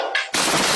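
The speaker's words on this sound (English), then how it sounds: "gunfire erupts." Gunfire erupts during a police standoff after shouted commands, a sudden loud burst of shots cutting off a brief voice and filling the rest of the moment.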